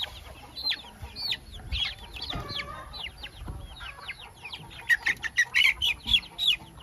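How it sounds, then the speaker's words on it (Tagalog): Rhode Island White chickens cluck and chirp close by on a farm with new chicks, with irregular soft calls that grow into a quick burst of louder clucks near the end. "ang gaganda ng mga Rhode Island White natin na bagong mga alaga"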